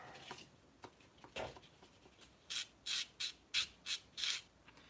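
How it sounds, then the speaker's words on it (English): Short, scratchy rubbing strokes from sanding sticks on a model diorama, quiet and close, come in bursts with a quicker run of regular rasps toward the end. "I'm using sanding sticks that I was given for free"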